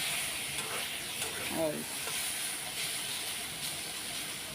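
Duck eggs frying in oil in a pan on a gas stove, giving a steady, close sizzling hiss that runs unbroken throughout, with a brief faint voice near the start.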